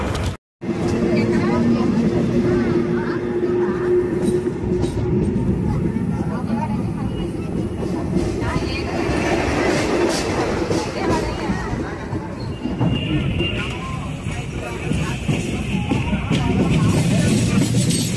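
Ratnachal Express passenger train running at high speed on the Rajahmundry–Vijayawada section, a steady loud rumble and rattle of wheels and carriages that continues almost unbroken throughout.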